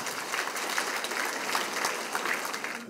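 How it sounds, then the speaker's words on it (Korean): An audience claps steadily at a residents' forum on urban regeneration, a dense, even round of applause sustained throughout without voices. "큰 박수 좀 부탁드리겠습니다."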